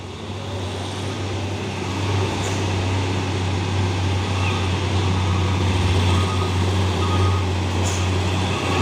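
A Hino 500 truck labors uphill with a deep, steady low engine drone that swells slightly midway, heavy road rumble around it, no clear speech.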